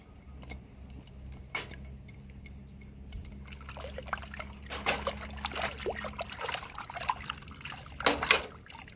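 Water trickles and sloshes into a container as mashed egg and rotten banana fertilizer is mixed, with irregular splashing and stirring that grows busier toward the end over a faint low hum.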